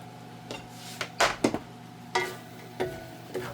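Carrots tipped into a pot of boiling sweet potato noodles, with a few distinct clatters and stirring knocks of a utensil against the pot over a low bubbling background, close and alone.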